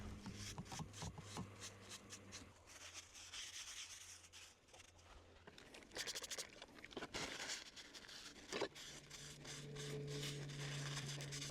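Camp dishes are wiped down outdoors with a cloth, giving repeated rubbing and scrubbing strokes in uneven bursts, fairly quiet and close, with faint background hum.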